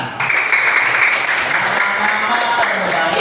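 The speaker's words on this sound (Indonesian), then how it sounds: "Iya, tepuk tangan." Schoolchildren clap together in a classroom, a steady, dense burst of applause lasting the whole moment, with young voices mixed in beneath the clapping.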